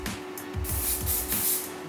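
Hair spray hisses onto men's regent-style hair already finished with wax, in a few short, close bursts of bright spray over a low background hum.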